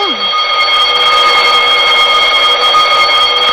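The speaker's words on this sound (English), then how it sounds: "That's what this here alarm's for, you know." A continuous electronic alarm rings inside a stuck elevator in a radio drama, a loud steady multi-tone buzz that holds unbroken for several seconds with no talking over it.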